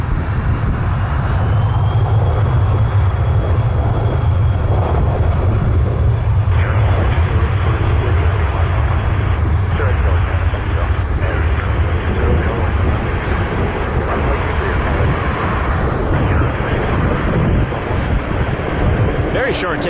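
A small business jet, a Citation or a Challenger, takes off at Toronto Pearson with a loud, continuous engine roar and a short takeoff roll, heard from nearby through gusty wind buffeting the microphone.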